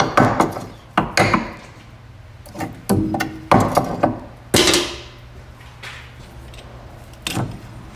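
Rust scale knocked off Honda CR-V brake parts, a series of sharp metallic hammer-like strikes, irregularly spaced and close, with short ringing decays and quieter gaps between blows.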